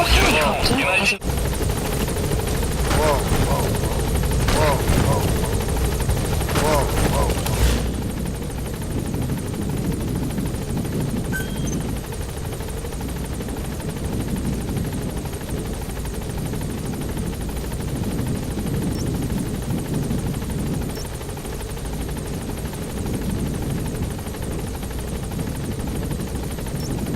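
Support helicopter in the video game Metal Gear Solid 5, a steady whirring rotor drone that runs throughout, with a burst of louder clatter and voices early on.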